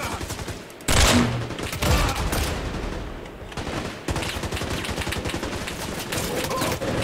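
Loud, sustained bursts of gunfire in a multiplayer shooter video game, with rapid overlapping rounds close by that rattle on almost without pause.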